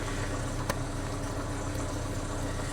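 A cheap Chevy Z71 truck bought at Copart, with a transmission problem, idles under the open hood, a steady loud engine drone with one brief tick, heard up close and alone.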